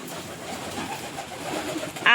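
Pigeons cooing softly at a home while being fed, low murmuring coos close by, ending with a sudden louder noise.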